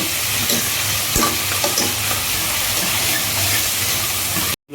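Onions frying in oil in a home kitchen while cooking a chicken curry, a steady dense sizzle that stays loud throughout, with a few stirring clatters, then cutting off abruptly near the end.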